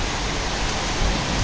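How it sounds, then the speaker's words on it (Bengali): Heavy rain pours down on a veranda in a dense, loud, unbroken wash of noise across the whole short stretch, with no voices. "ঝুমঝুম করে বৃষ্টি পড়তেছে"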